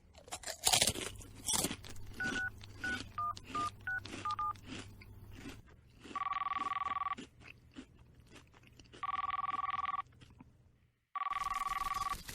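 A phone call goes unanswered: quick touch-tone dialing beeps amid crunchy snacking noises, then three long electronic ringing tones with pauses between them.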